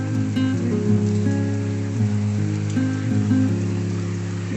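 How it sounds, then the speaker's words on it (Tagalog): Heavy rain pours steadily in a dense, continuous wash, a rainy-day downpour with low steady hum underneath and no talking. "Yung sobrang ulan."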